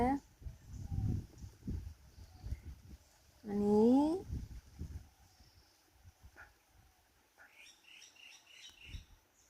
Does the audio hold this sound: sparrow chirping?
yes